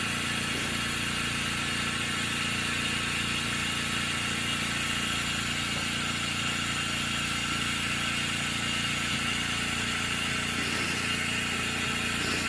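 Specialty Coating Systems G3P-12 spin coater running at 6,000 RPM, a steady mechanical hum and whirr with a constant drone and faint periodic pulsing, unchanging and alone throughout.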